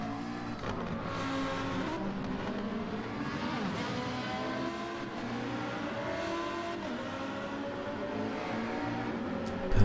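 Radio-controlled GT race cars lap a circuit at Lago Maggiore during a European championship round, a Renault among the field, their layered motor whine droning steadily for the whole stretch with shifting pitches as several cars pass, and a brief louder burst at the end.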